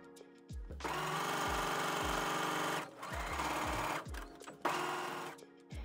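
A sewing machine stitches the side seam of a wrap skirt in steady bursts, its motor whirring loud and close between short pauses, with faint low thumps as the fabric is handled.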